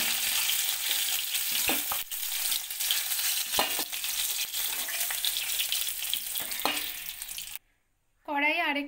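Fish sizzles steadily in hot oil in a wok, a loud continuous crackling frying sound with occasional stirring clatter, then a brief silence and a short musical tone near the end.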